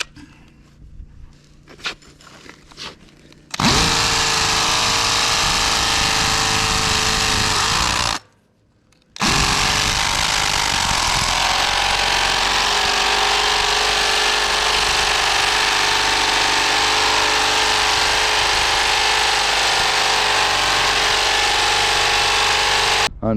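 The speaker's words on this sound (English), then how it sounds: "we started drilling into the concrete to put the new anchors in" A loud, continuous hammer drill roar boring into concrete for anchors runs for several seconds, stops briefly, then resumes steadily for a long stretch.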